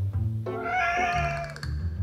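A hungry cat meows while waiting for food, giving one clear, drawn-out, rising and falling meow at close range over a faint low background, with no speech.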